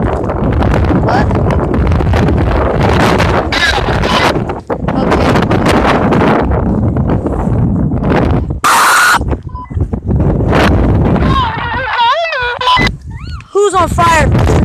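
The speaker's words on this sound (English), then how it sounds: "of course it's very, very windy" Strong wind at Pelican Lake, Utah, buffets the microphone with a heavy, roaring rumble while people talk on and off nearby.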